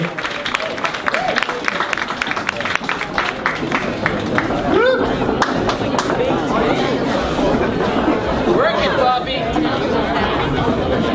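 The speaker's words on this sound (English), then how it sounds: "big round of applause" Crowd at a Christmas party claps and cheers after a bachata dance team's first performance, steady dense applause mixed with chatter throughout, close and loud.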